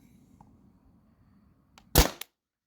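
A Tippmann TiPX paintball marker fires, giving a single sharp, close pop with a quick mechanical follow-up click, after near silence.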